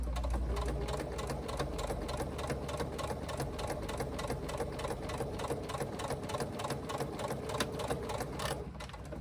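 A sewing machine fitted with a walking foot stitches vinyl in a steady, rapid mechanical chatter of needle strokes that runs nearly unbroken, easing briefly near the end.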